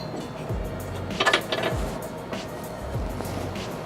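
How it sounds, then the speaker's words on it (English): A U-Haul hitch jack lifts a trailer hitch into position beneath a 2012 Chevy Equinox, giving off irregular mechanical clicks, ratcheting taps and dull clunks at moderate volume, close by, with no one speaking. "U-Haul hitch jack, we're going to pull our hitch up into place"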